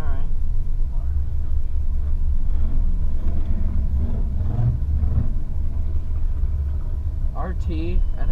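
A car engine idling and rumbling steadily on a drag strip, a loud continuous low drone with faint voices in the background.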